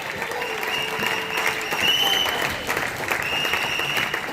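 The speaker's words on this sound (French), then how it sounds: "Acclamons très fort le Seigneur." Church congregation claps and cheers in praise during a worship service, a continuous roomful of applause with scattered shouts, steady and fairly loud throughout.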